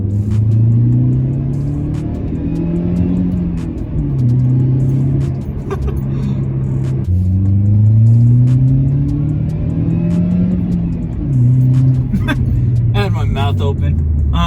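An older Mercedes car is driven, its engine humming steadily and rising and falling in pitch through the gears, loud and continuous from the cabin, with faint clicks and rattles near the end.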